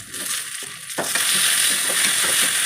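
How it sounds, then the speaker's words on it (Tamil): After a few soft clatters, tomatoes drop into hot oil and a loud, steady sizzle takes over, continuous and close. "தக்காளி போட்டு 1 நிமிஷம் வதக்கிக்கலாம்."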